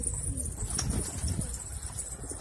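Pigeons settle onto the roof of a coop outdoors, with soft cooing, rustling wing flaps and a quiet background hiss.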